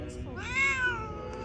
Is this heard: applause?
no